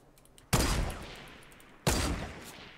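A pair of loud gunshots in Fortnite Battle Royale, each a sudden blast trailing off slowly, roughly 1.3 seconds apart over a low background hum.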